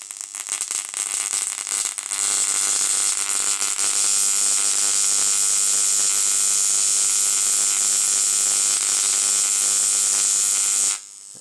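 A high-voltage electric arc from a 4 MOSFET ZVS driver running at about 10 to 12 volts buzzes in a loud, steady, high-pitched hum, holding unbroken for roughly nine seconds before it cuts off abruptly.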